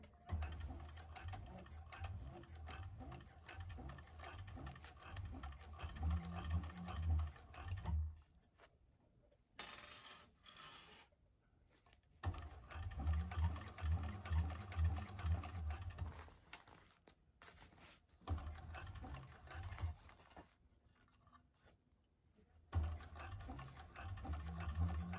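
A 1341 cylinder arm sewing machine stitches through a bag, running in rapid bursts separated by short pauses, close and clear.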